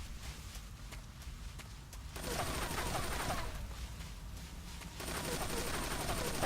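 Gunshots from The Boss in Metal Gear Solid 3: Snake Eater come as bursts of gunfire that crackle loudly over a rumbling background, swelling in the middle and again toward the end.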